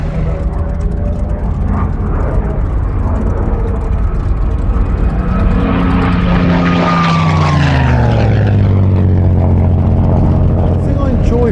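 A Messerschmitt Bf109G with an inverted V engine drones loudly in flight, its propeller and engine tones holding steady before sweeping downward in pitch as it passes close by.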